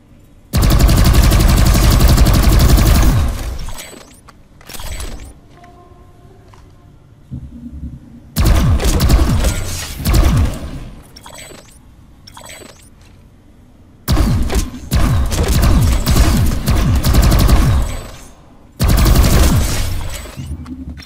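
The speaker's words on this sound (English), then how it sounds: "Try shooting some targets while aiming down sights." Automatic weapon fire in the shooter game Planetside 2, with four long, loud bursts of rapid shots separated by brief gaps holding single shots, mechanical reload clicks and quiet stretches.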